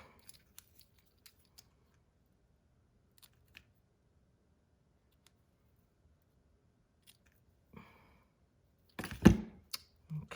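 Scissors snip at a ribbon bow on a handmade Christmas gift box, giving a few faint, sparse clicks followed by a louder burst of close, crisp cutting near the end, with no talking.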